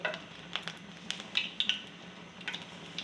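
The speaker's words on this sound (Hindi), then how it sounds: "तेल गर्म है। चिप्स डालती हूँ अपनी" Boiled potato chips for homemade fries going into hot, bubbling oil: a soft, quiet sizzle close by, broken by light clinks and scrapes of a utensil stirring in the pan.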